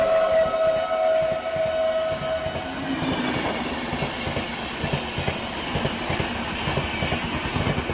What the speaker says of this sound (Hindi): एकदम से लॉन्गिंग करती हुई आ रही है अपनी नई दिल्ली सियालदह राजधानी एक्सप्रेस